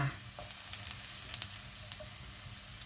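Wild mushrooms foraged from the forest stir-frying in oyster sauce in a pan, a quiet continuous sizzle with occasional light stirring clicks and no voices.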